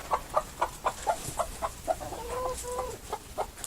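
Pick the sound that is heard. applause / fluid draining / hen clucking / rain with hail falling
hen clucking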